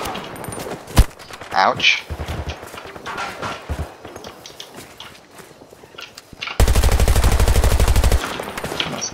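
Gunfire in Battlefield 2042 battle royale play: scattered single shots and short bursts, then a sustained loud rapid automatic burst near the end, with someone talking and exclaiming in between.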